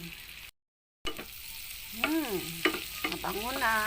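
Chopped onion sizzles in melted butter in a hot pan, a steady close frying hiss with stirring scrapes over it. The sound cuts out for a moment near the start.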